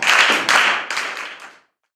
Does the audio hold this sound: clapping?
yes